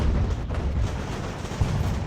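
Mortar artillery in the Ultimate General: American Revolution battle, a dense rumbling barrage of deep booms with no pauses, loud and continuous throughout.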